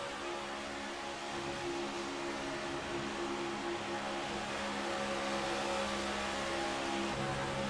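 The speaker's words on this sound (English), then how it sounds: "Let's ride on board with the 88 car around Daytona." Video game race car on an onboard ride around Daytona: a steady, loud engine drone with a sustained high-revving whine, continuous throughout with no voices.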